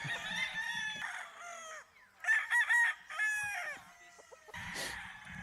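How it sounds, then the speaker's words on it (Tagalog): Roosters crow repeatedly at a gamefarm, several long calls overlapping at moderate distance, with occasional clucking in between and no talking. "wala kayong marinig dito kundi mga tilaok ng mga manok"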